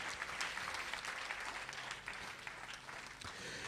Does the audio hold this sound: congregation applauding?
yes